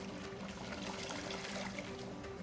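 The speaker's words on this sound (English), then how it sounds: "I'm going to add some more warm water" Warm water pours steadily into a pot of Haitian goat stew sauce with cashews, a soft continuous trickle and splash held at an even level throughout, with no voices.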